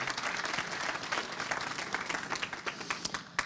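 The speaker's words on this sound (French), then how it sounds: "ça mérite une bonne veine d'applaudissements." Crowd at a college graduation ceremony in Timmins, Ontario applauds, dense steady clapping from many hands in a hall, fairly loud and unbroken throughout.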